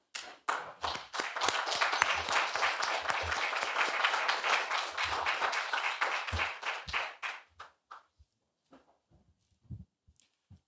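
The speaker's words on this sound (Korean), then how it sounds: "다들 일어나시가 큰 박수로 맞이해 주십시오" A lecture hall audience rises and applauds to welcome a mathematics professor, a full burst of clapping that holds for several seconds, then thins into scattered claps and taps before fading out.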